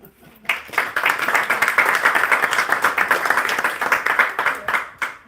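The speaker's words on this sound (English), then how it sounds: "If you guys could give a big round of applause." An audience at a bookstore author event bursts into sustained applause, many hands clapping loudly and densely for several seconds before fading out.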